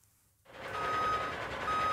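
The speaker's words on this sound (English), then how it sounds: "see what he does when a dirty garbage truck comes to visit" Backup beeps from a garbage truck reversing toward a car wash, two steady electronic tones over a loud engine rumble that starts abruptly after a short quiet moment.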